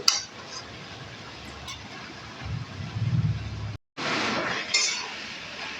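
A utensil stirs cabbage ghonto in a pan, giving soft clinks and scraping against the metal at moderate loudness, with a short break before the stirring resumes.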